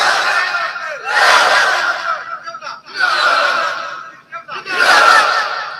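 A crowd at a religious gathering shouts takbir in three loud, surging bursts with brief lulls between them, the massed voices rising together and fading away each time.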